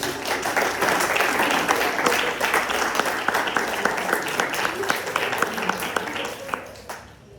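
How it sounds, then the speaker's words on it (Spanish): An audience applauds steadily after a student performance at an academic event, dense clapping that stays loud throughout and tapers off in the last second. "Un aplauso para todos ellos."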